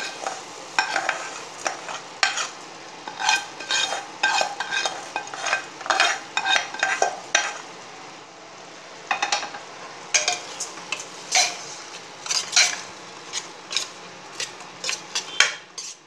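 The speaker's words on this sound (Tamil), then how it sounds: "நெய்யில் வறுத்து வச்ச ரைஸை போடுவோம்." Ghee-fried rice is stirred into a pot of mutton biryani masala, a steady run of scraping spoon strokes against the metal pot with a light sizzle beneath, no talk.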